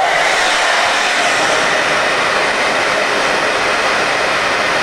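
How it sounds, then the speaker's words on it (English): A Revlon 1875-watt hair dryer blows steadily at close range, a loud, constant broadband whoosh with no change in pitch and no talking. "my Revlon 1875-watt hairdryer. And we're going to blow onto the screen"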